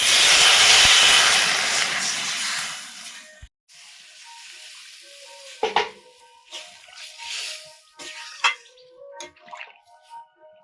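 Fish curry broth boils hard in a pan with a loud, steady hiss and bubble that cuts off after a few seconds. Faint clinks and soft bubbling follow.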